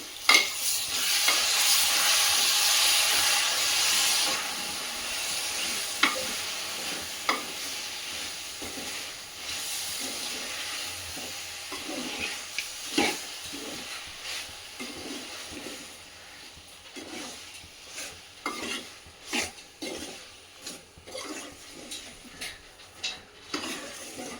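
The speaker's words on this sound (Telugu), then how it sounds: "నిమ్మరసం ఇది ఇప్పుడు అన్నీ మిక్స్ చేసుకుందాము" A spoon stirs amla (Indian gooseberry) jam with lemon juice in a pot, giving a hissing simmer at first, then repeated scraping and clacking strokes that turn sparser and uneven toward the end.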